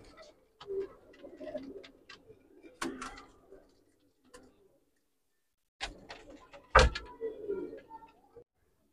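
Pigeons in a rooftop loft holding breeding pairs coo in soft repeated bursts, with a few sharp knocks and a brief clatter amid quiet gaps.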